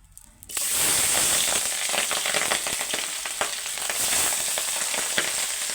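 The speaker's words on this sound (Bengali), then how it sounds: "তেলটা তেতে গেলে মাছগুলো ভেজে নেবো" Pabda fish drop into hot mustard-style cooking oil and start frying, a sudden loud sizzle after a brief quiet moment that settles into steady crackling and hissing, close by.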